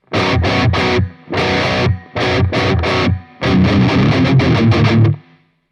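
Heavily distorted electric guitar in standard tuning plays the fourth ending of the riff: loud, thick palm-muted bursts in grouped phrases with brief pauses, a longer final run, then silence.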